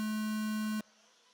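A supercross series race start tone sounds as one steady, pure electronic beep lasting under a second. It cuts off abruptly into near silence.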